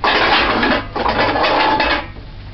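A metal frying pot clatters and scrapes onto a stove burner in a kitchen, with a run of loud rattling and clanking contact noises, close by and without talking.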